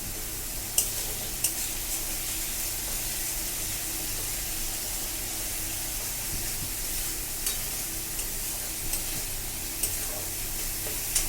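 Pabda fish curry sizzling over a medium flame while being stirred, a soft steady hiss with a few faint spatula taps, quiet and close with no voices.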